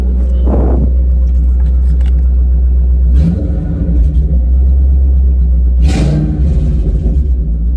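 A car engine fitted with new coil packs idles with a loud, steady low rumble, then takes a couple of brief revs that swell and fade back to idle, close by with no talking.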